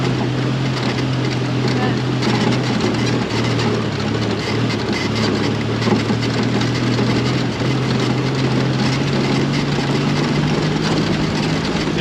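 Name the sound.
vehicle engine driven in second gear during driving lesson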